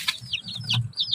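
A toy chicken gives a short string of high, chirpy clucks, close and bright over a low hum, lasting about a second.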